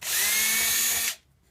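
A power drill whirs loudly and steadily for about a second, drilling into wood along a cigar box guitar fretboard, then cuts off abruptly into near silence.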